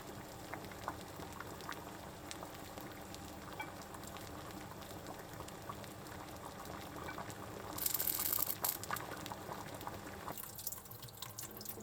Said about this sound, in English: Briefly blanch them in boiling water